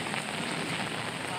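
Monsoon rain pours steadily on the Mumbai–Ahmedabad highway near Vasai, a dense, even wash of hiss that carries straight through without pause or talk.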